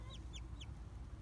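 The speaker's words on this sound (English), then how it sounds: "You hear that cheeping?" Newly hatching chicks give three quick, high, downward-sliding cheeps in close succession, small and fairly faint over a steady low background rumble.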